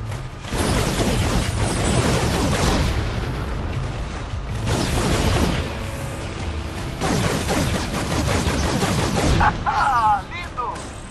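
Gunfire and explosive blasts in the PS4 game Infamous First Light, with repeated heavy booms and bursts rising and falling across the stretch while someone talks excitedly over the action.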